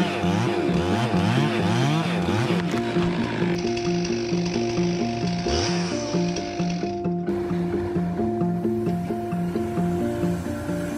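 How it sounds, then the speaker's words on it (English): A Stihl MS441 chainsaw runs loud and close with a steady engine drone while cutting a broken white pine, its pitch wavering as it works the wood. Another engine hums underneath. "With the help of a Style MS441 chainsaw, he quickly removed the broken white pine."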